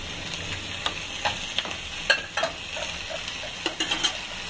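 Mushrooms frying in a green salsa with chicken fajitas, a steady close sizzle broken by irregular scraping stirs and light utensil clicks against the pan, with no voices.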